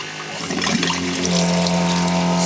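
A motorhome water pump runs with a steady whining hum while water gushes out forcefully, splashing and hissing loudly throughout, close by and alone without talk.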